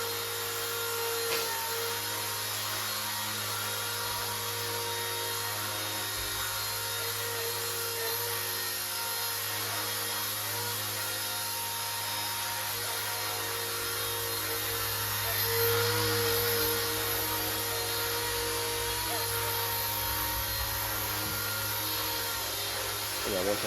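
A small RC ERA C138 Bell 206 model helicopter flies peppy, agile manoeuvres, giving a steady, continuous high-pitched motor and rotor whine that holds near and fairly loud throughout with slight swells.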